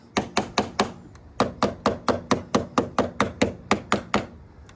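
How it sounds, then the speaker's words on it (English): Repeated hammer taps on a battery cable end, about sixteen sharp, evenly spaced metallic strikes close up, with a short pause after the first few, no talking. "Just take and tap this down on here a little bit."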